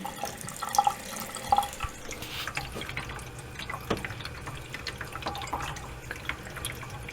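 Water runs from a bathroom sink faucet during plumbing installation, with a low, steady splashing trickle and a few faint drips and clicks.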